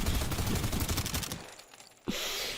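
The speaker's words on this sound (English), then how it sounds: "this gun has a lot of bullets" A gun in the video game Suit for Hire fires a rapid, even stream of loud shots for over a second, then stops, followed by a short burst of hiss-like noise.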